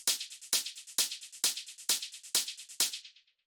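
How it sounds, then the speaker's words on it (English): Techno hi-hat section built from a 909 hi-hat on the upbeats layered with shakers, ticking in a steady, bright pattern of seven loud accented hits with quieter shaker ticks between them, dry and close with no voices. "the next thing that we have here is this sort of like hi-hat section"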